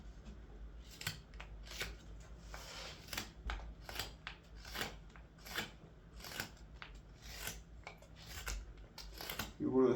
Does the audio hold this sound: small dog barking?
no